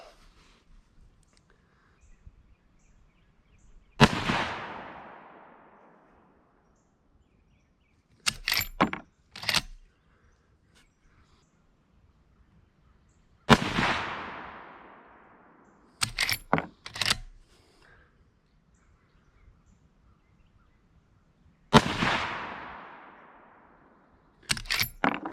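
Three rifle shots from a Henry .30 Winchester during sighting in, each a sharp loud crack with a trailing echo, spaced several seconds apart, followed by quick metallic clacks of the lever action cycling.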